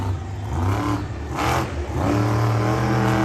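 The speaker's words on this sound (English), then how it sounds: "He is off with a nice wheelie to start off his 2 minutes." A bright green Chevy Bel Air monster truck revs its engine hard as it pulls a wheelie at a Jacksonville freestyle show, a loud, roaring drone that rises and dips, with no speech.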